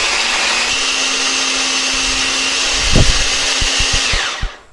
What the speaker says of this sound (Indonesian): ini aku menghaluskannya pakai chopper ya, biar nanti teksturnya itu lebih cantik